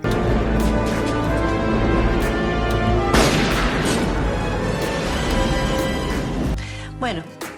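A gunshot from the Steven Seagal action film Under Siege 2 cracks out as a sharp, loud burst amid a dense, busy film soundtrack with music and effects.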